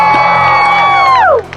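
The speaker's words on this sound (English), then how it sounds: "Somebody scream!" A large outdoor crowd screams and whoops at a dangerous Polynesian performance in Hawaii, one loud sustained mass cry that rises and then drops off sharply at the end.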